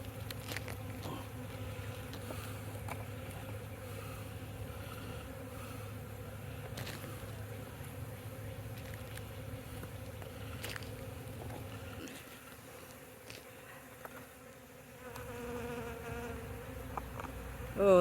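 Bees buzz steadily around a hollow log as the honeycomb is cut out of it, a continuous close insect drone with brief dips and swells throughout.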